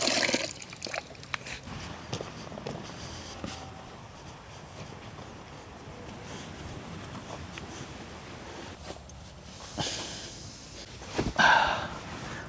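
Water running from a campsite tap at a camp in Palauig, Zambales: a soft, steady trickle and splash through most of the clip, with louder splashing bursts near the end.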